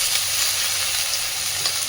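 Chopped red amaranth and spinach greens sizzle loudly in a pan with fried prawns, a steady dense crackling hiss that holds evenly throughout with no talking.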